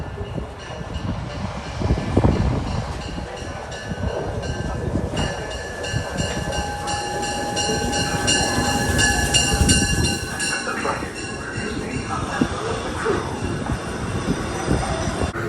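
A passenger train pulls into a New York station platform, its rumble swelling with sustained wheel squeal and rattling carriages, loud and near, with muffled voices and a platform announcement around it.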